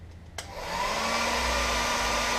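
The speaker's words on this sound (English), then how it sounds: "use your hair dryer again to get it dried a little quicker" A hair dryer used to dry a Plasti Dip coating clicks on and rises into a loud, steady blowing whir that continues to the end.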